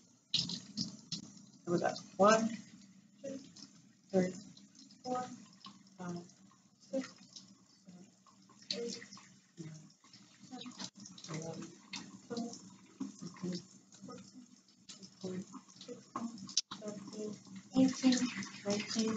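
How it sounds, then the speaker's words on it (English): A tap runs for hand washing, a soft steady stream of water splashing into a sink under near-continuous talking by an adult voice. "All right, so I'm going to turn on my water."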